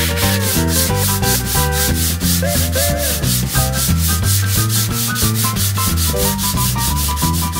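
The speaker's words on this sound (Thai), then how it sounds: "เวลาเราขัดกระดาษทรายปีกตรงนี้มันจะบางละ" Steady, rapid sandpaper rubbing on gypsum board, a continuous gritty back-and-forth scraping that stays loud and close throughout, with no voices.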